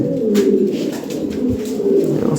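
Large fancy Lahore pigeons give a continuous low, throaty cooing that is close and steady, with no voices over it.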